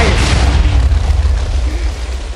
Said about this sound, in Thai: หุ่นยนต์ยิงระเบิดได้